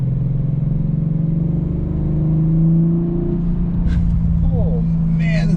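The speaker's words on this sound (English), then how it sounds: "this V6 sounds incredible" An Audi RS5 V6 engine drones steadily at high revs on a track, its pitch holding and then easing slightly, with a brief higher-pitched whine near the end.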